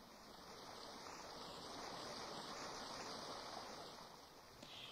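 Gentle, continuous flow of a small stream joining a little river, a steady broadband rush with no voices, holding at an even level for several seconds.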